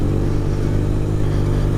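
A BMW flat-twin police motorcycle rides a rough, potholed country road, its engine a steady loud low drone with a clattering rumble from the uneven surface, close and continuous throughout.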